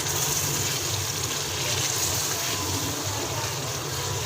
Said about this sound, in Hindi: हम इसमें थोड़ा सा छट्टा लगाएंगे पानी का